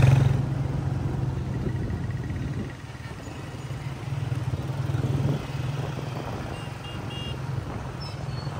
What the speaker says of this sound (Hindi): होंडा स्टार्ट कर लिया हमने